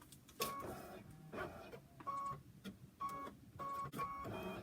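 A home embroidery machine stitches a Kimberbell Kimberbear, giving bursts of rapid mechanical whirring and clatter that start and stop in a steady rhythm, fairly close and moderately loud, with no talking.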